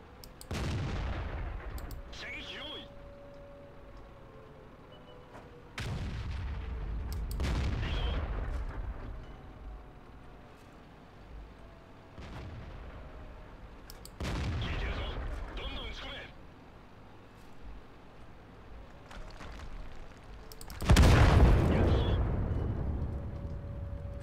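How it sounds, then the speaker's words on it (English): Heavy artillery blasts from the World of Tanks tank battle boom out one after another, a handful of loud, deep impacts spaced several seconds apart, with the biggest and closest hit near the end and a voice talking between shots. "Artillery there."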